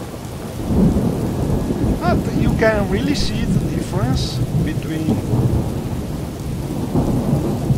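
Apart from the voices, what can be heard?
heavy rain and thunder in Morrowind video game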